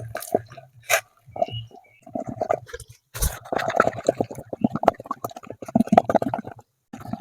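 Cooked spinach greens mashed in a pot, giving soft wet squishing and dripping sounds in irregular bursts with a few sharper knocks, close and fairly quiet, with no one talking.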